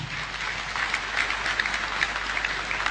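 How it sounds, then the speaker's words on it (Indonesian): An audience at an evening campus event claps together in a steady, moderately distant wash of applause that holds evenly from start to finish with no voices on top. "Mari kita beri tepuk tangan yang meriah."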